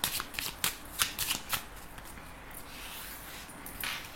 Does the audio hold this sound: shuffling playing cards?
yes